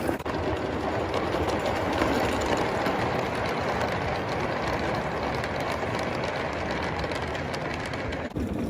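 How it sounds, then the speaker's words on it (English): Vintage model trains, a 1920s Bassett-Lowke and a 1930s Bowman, run on an outdoor garden railway, producing a steady, dense rolling rumble throughout with faint bird calls in the background. "Here's my old 1920s Bassett-Lowke, and here's my old 1930s Bowman."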